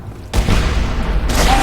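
Rocket blasts in the tank combat shooter Renegade X, one booming hit followed by a second heavy explosion, loud and close with a rumbling low end and no talk over them.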